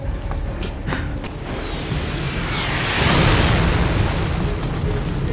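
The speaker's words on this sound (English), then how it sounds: "They've started bombing." Explosions from bombing in a Resident Evil game roll in as a rumbling, crackling blast that swells to a loud roar partway through over a low mechanical creaking background, with no speech.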